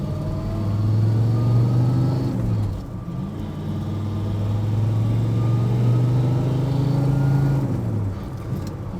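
A 1965 Pontiac GTO convertible with Tri-Power carburetion and a four-speed gearbox pulls away, its V8 rumbling loud and close as the pitch climbs, drops at a gear change, then climbs again and falls off.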